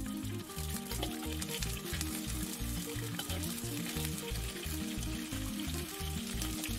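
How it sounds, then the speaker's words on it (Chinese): A bluethroat wrasse pan-frying in olive oil with ginger and scallion, a steady close sizzle over a continuous rhythmic low background beat, with no voices. "将鱼头两边煎一下，然后舀上热油，浇在鱼身上"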